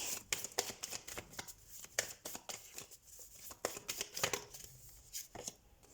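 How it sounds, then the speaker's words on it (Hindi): Tarot cards drawn and handled from a deck, heard as quick, close papery flicks and soft slaps in an irregular rhythm, with no one talking. "मैं कुछ कार्ड्स निकाल लेती हूँ"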